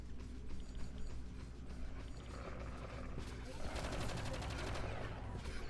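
Gunfire in the video game Project Eden, with rapid automatic bursts and mechanical clatter over a low droning background, building louder toward the end.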